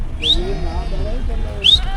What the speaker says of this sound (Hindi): मैंने इन्हें रास्ता देने के लिए सीटी भी बजाई